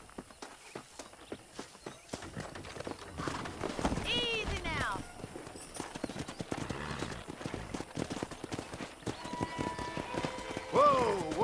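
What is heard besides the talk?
horses galloping and neighing in Red Dead Redemption video game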